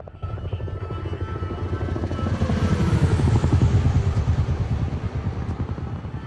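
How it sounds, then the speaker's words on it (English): A helicopter in the Dead Rising 4 video game thrums steadily with fast, rhythmic rotor chopping that swells louder midway and stays close and prominent throughout, with no talk over it. "let's follow the trope of a helicopter in a video game getting shot down immediately"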